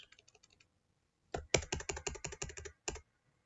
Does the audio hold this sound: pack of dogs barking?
no